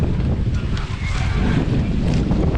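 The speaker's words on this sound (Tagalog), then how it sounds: "magkalakas po ng hangin no?" Strong wind roars and buffets the microphone continuously, a dense low rumble with gusty rushing and no clear voices.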